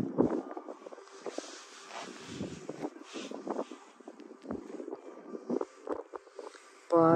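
Gusty wind buffets the microphone in irregular rumbling bursts at a lion park on a mountain, with fainter sounds underneath.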